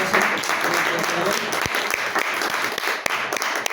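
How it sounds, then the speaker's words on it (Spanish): An audience at a talk about Schrödinger's quantum beer claps for the speaker Benjamín, giving dense, sustained applause that fills the room from start to finish, with a few voices mixed in. "Pues vamos a darle un aplauso otra vez a Benjamín."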